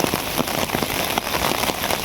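Heavy rain pours steadily onto flooded fields and surfaces, a dense, loud, continuous patter of close drops with no voices.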